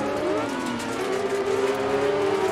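Rally cars rev hard in a rallycross race in Dirt Rally 2.0 on the Hell, Norway track, a loud, continuous, overlapping engine drone with rising and falling pitch sweeps.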